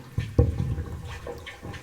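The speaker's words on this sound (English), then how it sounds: "Yeah, that air all popping out." Trapped air bubbling and popping out as water fills the pipe of a small 1.5 kW hydroelectric system, a few loud gulping bursts over continuous gurgling flow.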